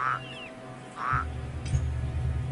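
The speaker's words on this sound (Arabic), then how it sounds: "يا ضفدع بنت ضفدعين نقي ما تنقي" A frog croaks close by in a water setting, two short calls followed by a steady low throaty drone, loud with no speech over it.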